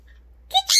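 A sun conure parrot gives two short, shrill squawks close by, the second louder and longer, after a near-silent start.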